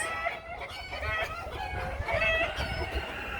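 Laying hens clucking nearby in a backyard flock, a busy overlapping chorus of short clucks and drawn-out cackling calls that carries on throughout.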